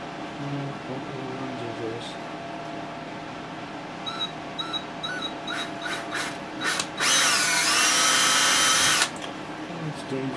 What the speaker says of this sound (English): I'm going to drill a couple holes now.